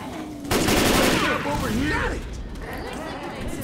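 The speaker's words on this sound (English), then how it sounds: "this gun is really loud." Bursts of loud gunfire in the video game Left 4 Dead 2, a dense rapid volley that starts abruptly then trails into scattered shots and crashing game noise under the mix.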